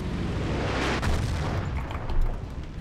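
Explosions and gunfire in the World War II shooter Battlefield 1942, with a dense, continuous rumble of booms, a sharper blast near the middle and another swell toward the end, all fairly loud.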